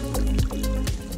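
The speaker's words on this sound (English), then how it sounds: "Adding about half a cup of water" Roughly half a cup of water poured into a blender holding chopped sweet potato, a short splashing, gurgling pour with a few distinct plops, close and fairly loud, no speech.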